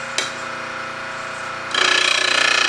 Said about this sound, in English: now I'm going to sharpen one side until all the black is gone